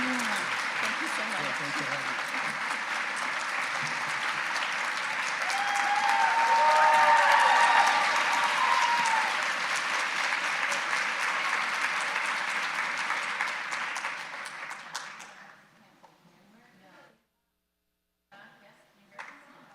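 A book-event audience applauds the arrival of authors Jodi Picoult and Angie Kim with sustained, full clapping that swells midway, then fades out to near silence.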